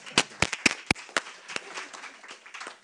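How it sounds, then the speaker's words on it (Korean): Scattered hand claps from a small audience at the 2019 Jeju Forum session on UNESCO's role for peace, opening a panel discussion: a handful of sharp, separate claps that thin out into faint patters. "여기는 시작할 때 박수를 한번 드리고 시작을 하게 됩니다"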